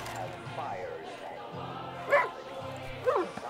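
A dog whimpers and yips in Far Cry 5, with short high whines rising twice among soft, low in-game ambience; no speech over it.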